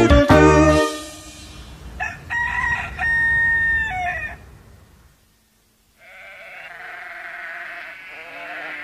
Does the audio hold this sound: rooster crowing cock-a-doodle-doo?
yes